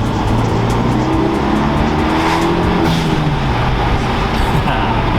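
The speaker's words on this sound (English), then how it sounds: "Let's drop it down a gear." A Renault Megane RS250 Cup Trophee drops a gear and accelerates, its engine roaring loudly and steadily from inside the car with road and wind noise, no talking.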